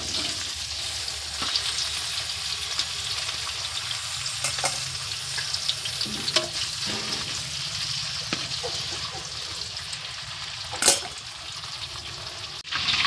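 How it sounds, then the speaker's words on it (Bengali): Capsicum fries in hot oil in a pan for chilli chicken vegetables, a continuous bright sizzle with scraping stirs and a sharper clatter near the end. "আর ক্যাপসিকামটা ভাজা হয়ে গেছে,"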